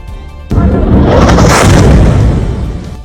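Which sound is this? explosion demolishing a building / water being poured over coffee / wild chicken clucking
explosion demolishing a building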